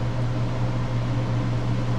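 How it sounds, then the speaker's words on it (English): A kitchen exhaust fan pulls cooking smoke away from frying oil, giving a steady, loud whirring drone with a low hum and no pauses. "So I've got my fan running so that it'll pull the smoke out as we're working."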